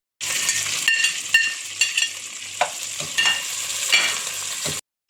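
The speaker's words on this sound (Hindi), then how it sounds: "अब हम इसमें 2 मीडियम साइज़ की प्याज डालकर भुनेंगे।" Two medium onions fry in five tablespoons of oil in a pressure cooker on a stove, producing a loud, close crackling sizzle with scattered stirring scrapes and light metal clinks, stopping abruptly just before the end.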